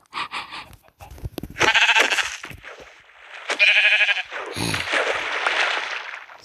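Sheep bleat loudly and close by, several calls in quick succession with short breathy pauses between them.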